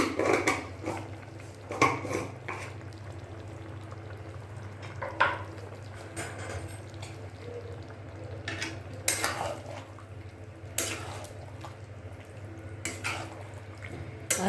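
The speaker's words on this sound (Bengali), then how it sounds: "ভালো করে নাড়াচাড়া করতে থাকুন চিকেনটা।" Chicken being stirred in a pan for chicken Patiala: soft sizzling under scattered scrapes and clinks of a spatula against the pan, irregular and close, with no talking.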